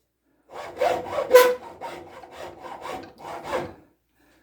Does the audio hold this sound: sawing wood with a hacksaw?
yes